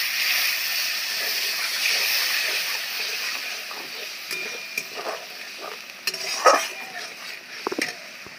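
Chillies and cashew-poppy seed paste simmer in a pan as a little water goes in, giving a steady close hiss of frying with a few scattered clinks and scrapes of a spoon against the pan.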